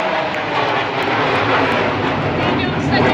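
Sukhoi Su-30 MKI fighters of the Indian Air Force's 24 Squadron roar overhead in a formation fly-past at the Republic Day airshow, a loud, steady, close jet rumble that fills the whole stretch without a break.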